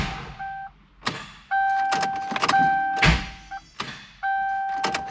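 A Ford Crown Victoria with a swapped-in 7.3 Godzilla V8 being started: repeated starter whirs with steady tones, cutting in and out in several separate bursts with sharp clunks between them, close and loud, no voices.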